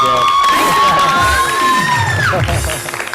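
Studio audience on a Hindi morning talk show cheering and whooping, a loud crowd roar with shouts rising over a sustained tone, steady and close throughout.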